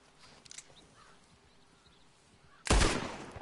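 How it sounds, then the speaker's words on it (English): A single loud, close gunshot rings out in Red Dead Redemption 2 as chains are shot off a prisoner's shackles, following quiet game ambience with faint bird-like sounds. "Just shoot the damn chains already."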